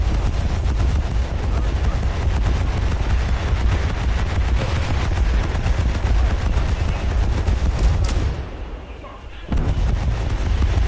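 Anti-aircraft guns pound away in War Thunder in a loud, unbroken barrage of rapid shots that briefly drops off near the end before resuming at full force.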